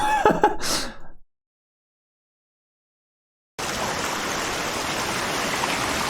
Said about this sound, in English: Sounds of like running water, rain.